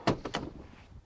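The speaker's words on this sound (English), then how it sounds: "dual power sliding doors" The power sliding door of a 2015 Honda Odyssey Elite minivan gives a couple of quick, quiet mechanical clunks nearby, fading into a soft rumble.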